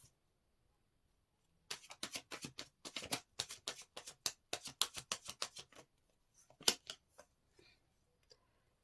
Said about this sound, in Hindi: first I will take 9 cards